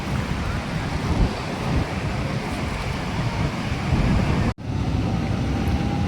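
A fast-flowing stream swollen after rain, where pilgrims had been bathing, gives a steady, close rushing roar that runs the whole time and cuts out for a moment partway through.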